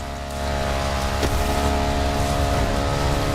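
BMW R1200 GS motorcycle from The Crew Motorfest ridden off-road, its engine holding a steady, loud drone throughout with a brief sharper knock near the middle.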